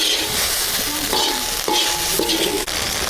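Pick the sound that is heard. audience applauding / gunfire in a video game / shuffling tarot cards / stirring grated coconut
stirring grated coconut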